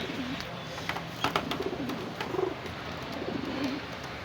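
Pigeon squabs and adult pigeons coo softly in a steady, low, repeated murmur against a faint background hiss, with no talking.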